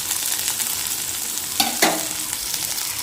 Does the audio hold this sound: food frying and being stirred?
yes